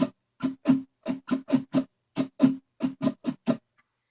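Short, sharp acoustic guitar strums in a quick repeating rhythm, clustered in groups with brief silences between them, played alone and close.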